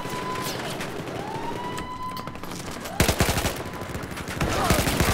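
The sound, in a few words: gunfire shots from a video game match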